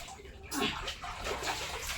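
Water sloshing and trickling inside a hill cave at a Hindu temple, a soft continuous wet sound that echoes slightly, with someone talking over it.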